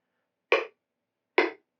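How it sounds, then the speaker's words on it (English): Two crisp metronome clicks at a slow, even 70 bpm, with clean silence around them. "the first thing you're going to need is you're going to need a metronome"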